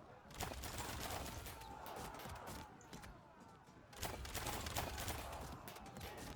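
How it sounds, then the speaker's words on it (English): Volleys of medieval handgun fire in the Field of Glory II strategy game, an early-firearms battle, come as two faint, crackling rolls of massed shots, each lasting a couple of seconds with a short lull between them. "And the handgun fire to get rid of them"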